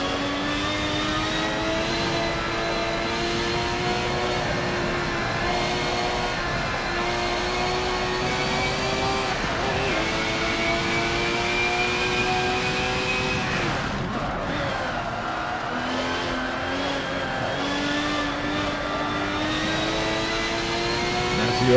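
Race car engines in Forza 7, including Ferraris, drone steadily through a long sim-racing run, with rising and falling pitch as gears shift and a brief lift around the middle, loud and continuous without talk.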